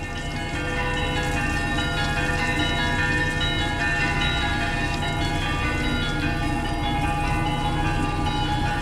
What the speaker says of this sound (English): they're ringing the bells.